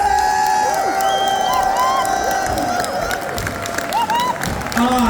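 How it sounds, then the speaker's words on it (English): A Comic Con Brussels audience claps and cheers in a steady, dense wash of crowd noise, with excited shouts and whoops rising above it for the full five seconds. "Start clapping and waving and cheering now!"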